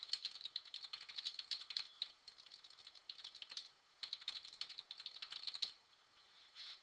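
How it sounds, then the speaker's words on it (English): Quiet, close computer keyboard typing comes in irregular bursts of quick clicks with short pauses between runs and no voices. "I'm just going to go ahead and start typing."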